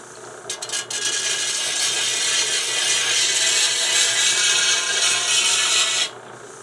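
A Swedish Banko 28-inch scythe blade being sharpened along its edge, shoulder toward tip: a continuous close, bright rasping hiss of steady strokes against the steel for several seconds, no talking.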